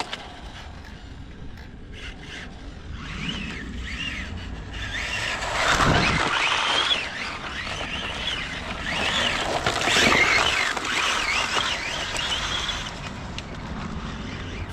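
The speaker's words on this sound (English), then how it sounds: "Why you keep spinning out like that?" A Kyosho Fazer MK2 1/10 RC car, a tuned 1972 Mazda Savanna GT body, tears across a rough yard, its motor whining as tyres scrub and scrape over dirt and grass in steady rasping bursts, swelling louder near the middle.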